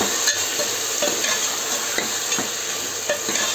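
Soaked green chickpeas tumble into a hot pan of frying rice masala and get stirred through, a steady close sizzle with scraping spoon strokes recurring every half second or so, no voices.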